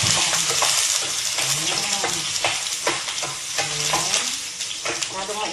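Sautéing in a hot frying pan while cooking a corn dish, with cubes going into the oil, a steady close sizzle with repeated scraping and stirring clinks of a utensil against the pan.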